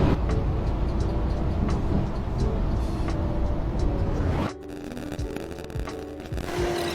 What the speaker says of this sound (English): Now the truck is driving on its own now.